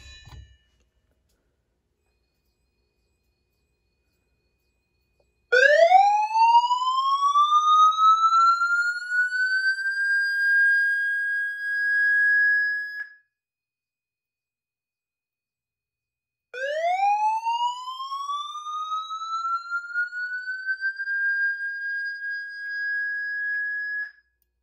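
A vintage Honeywell fire alarm horn on test lets out two long rising electronic whoops. Each one sweeps upward and then holds a loud, steady tone for several seconds, with silence between the whoops.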